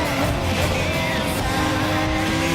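Race cars in Gran Turismo Sport roar continuously with high, dense engine noise and a hint of tire squeal, loud and close throughout the short stretch.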